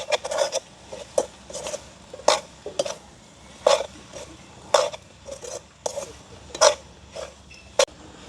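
A spoon clatters and scrapes in a pan while drumstick pieces are mixed with egg, producing a series of sharp, close metallic knocks in an irregular rhythm over a quiet background.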